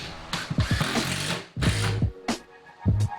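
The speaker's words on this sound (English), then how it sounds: "I went ahead and drilled into all the studs, just with standard brass Robertson screws." A power drill drives brass Robertson screws into wall studs, with several short, close bursts of whirring motor noise separated by brief pauses.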